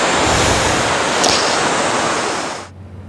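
A waterfall in Bohol, Philippines, roaring as a loud, steady broadband rush of falling water that fades away near the end, with no talking.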